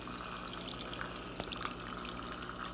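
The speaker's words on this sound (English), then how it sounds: "we've seen how the bottles work with just water going through them" Water pouring from an AireWine bottle, a faint continuous splashing trickle with small bubbling pops throughout.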